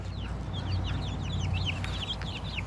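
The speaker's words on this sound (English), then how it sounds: "They're real pretty little chickens." Sapphire Gem chickens make soft, repeated chirping calls in quick succession over a constant low background hum, fairly close and continuous throughout.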